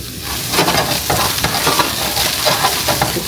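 Squash sautéing in a pan, a steady close sizzle with repeated scraping stirs throughout, fairly loud with no talk.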